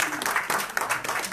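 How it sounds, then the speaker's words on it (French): An audience at an event against violence toward women claps for a speaker, a short, fairly close burst of uneven clapping with individual hand claps standing out. "Je pense qu'on peut applaudir Aïcha."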